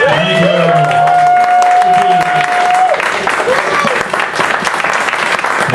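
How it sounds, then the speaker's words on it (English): Audience applause at a tribute event, a broad, steady wash of clapping from a crowd filling the hall, with a sustained electronic tone riding over the first half and some voices mixed in underneath. "So can we have another round of applause?"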